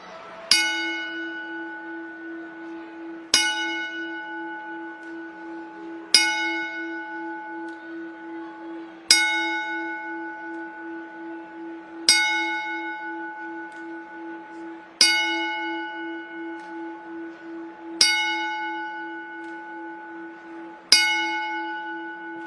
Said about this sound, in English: we'd like to do our very first Indie Wrestling Experience 10-bell salute